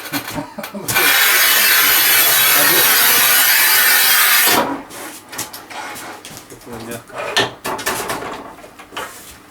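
A Haisser 1200 Industry or Shijing 3051 electric tile cutter slices through tile with a loud, harsh, steady grinding whine for several seconds. It then stops, leaving scattered knocks and clatter.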